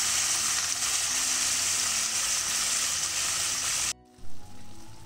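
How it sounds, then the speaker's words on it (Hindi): Mutton browning in a pot for mutton handi, a dense loud frying sizzle that suddenly drops away near the end, followed by a brief knock and quieter rumble. "मटन का कलर चेंज हो जाए तब तक हमें इसे भूनना है।"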